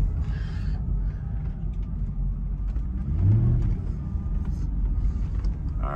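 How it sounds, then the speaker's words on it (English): A Mercedes G-Wagon and a Mercedes GL550 pull out nearby, a low steady engine rumble that swells briefly with a rev midway before settling back. "There goes the G-Wagon pulled out, and there goes the GL550 pulled out."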